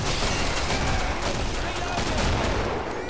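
Explosive game combat in the Killing Floor co-op shooter, where an enemy's head bursts amid dense continuous gunfire and blasts, loud and chaotic throughout, with no clear gap between the shots.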